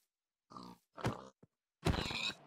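Pigs in the video game Minecraft grunting: three or four short, close snorting oinks separated by silence, the last one longer.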